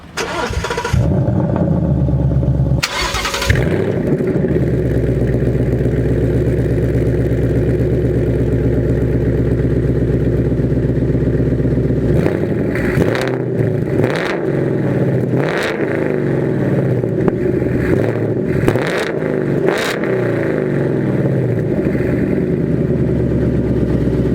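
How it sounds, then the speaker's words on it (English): A 2019 Ford Mustang Bullitt fires up with a loud starter crank and burst, then settles into a steady, deep idle, with a few sharp revs near the end; no one speaks. "And let's turn on this car."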